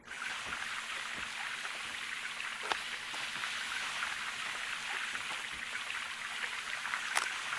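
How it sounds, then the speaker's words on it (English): Steady rushing water filling a bucket in Gold Mining Simulator, a continuous low-level hiss with faint drips and a few small clicks, no talking. "Fill this bucket back up with water."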